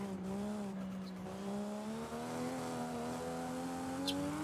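Car drifting in the video game Forza Horizon 5, a steady tire squeal with a rising engine note, held continuously and fairly loud throughout.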